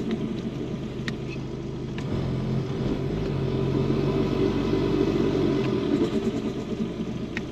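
A Volkswagen Golf GTD Mk6 with a 2.0 TDI diesel engine, heard from inside, rumbles low and then builds as it accelerates, a steady close engine drone with no talking.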